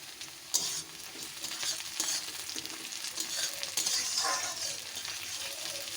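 Chopped tomato stirred into onions frying in refined oil for a mutton curry, a steady close sizzle broken by scraping stirs and soft clatter, no talking.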